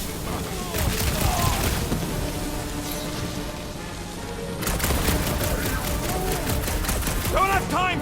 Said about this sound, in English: I hear way too much shooting!